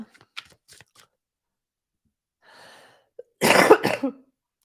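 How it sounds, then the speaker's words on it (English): A short burst of loud coughing near the end, preceded by faint rustles and a soft breath, with near silence between. "Was it not muted when I coughed?"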